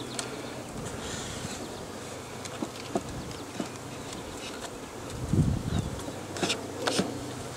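Honeybees from a package being installed into a hive hum in a steady, close, low buzz, with individual bees flying past the microphone now and then and some light handling noise.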